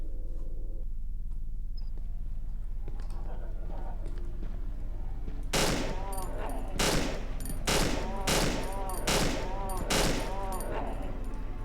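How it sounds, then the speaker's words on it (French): Rapid gunfire from a weapon in the horror video game Cry of Fear, a burst of repeated sharp shots after a few quiet seconds of low ambient hum, fairly loud with no speech. "Je vais déjà tirer avec celui-là, voir un peu ce que ça fait."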